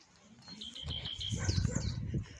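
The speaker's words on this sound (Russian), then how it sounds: "Ух ты, птицы как поют." Birds sing and chirp outdoors on a cold, cloudy day near rubbish bins, with quick high calls over a low rumble of ambient and handling noise.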